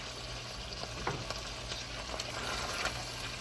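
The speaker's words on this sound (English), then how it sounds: "Now you want to let your potatoes fry for a couple minutes." Potatoes fry in a pan for green chile stew, giving a steady, close sizzle with occasional stirring scrapes and no talk over it.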